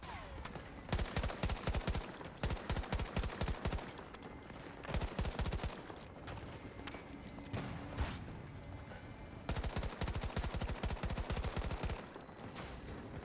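Rapid automatic gunfire rattles in bursts through a Battlefield 2042 match played over cloud gaming, with repeated volleys of shots, scattered single cracks and short lulls over roughly thirteen seconds, fairly quiet overall.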